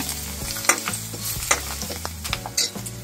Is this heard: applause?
no